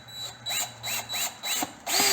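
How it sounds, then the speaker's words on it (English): Power drill driving screws through the plastic of a Goldwing rear fender filler: short repeated whirring bursts in a steady stop-start rhythm, close and fairly quiet, with no talking. "just drill through the plastic"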